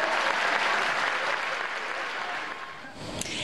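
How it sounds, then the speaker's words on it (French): An audience in Algiers gives itself a hearty round of applause at a humour-themed event, dense steady clapping that slowly thins and fades toward the end. "vous pouvez vous applaudir s'il vous plaît"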